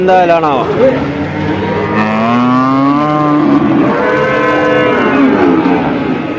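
Cattle moo loudly and repeatedly at a livestock market in Vaniyamkulam, Kerala, long drawn-out lowing calls overlapping one another in a noisy outdoor setting.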